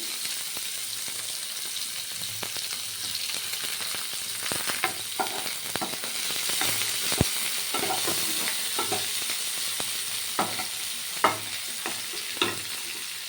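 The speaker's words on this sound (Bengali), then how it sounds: "এইবারে দিয়ে দেবো পেঁয়াজ কুচানো তেলের ওপরে পেঁয়াজ দিয়ে দেওয়া হলো" Chopped onion hisses and crackles steadily in hot oil for a fish-oil and brinjal chorchori, with sharp clinks and scrapes of a spatula stirring against the pan throughout.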